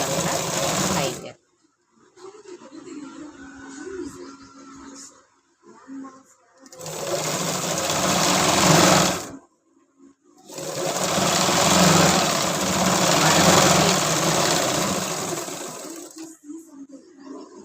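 A sewing machine stitches tracksuit fabric for a child's 3-4 year size in loud, close bursts of rapid whirring, broken by short silent pauses between runs.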